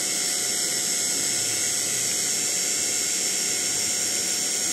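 A small 12-volt solar-powered water pump runs with a constant high-pitched electric whine and an even mechanical hum, loud and close, with no change throughout.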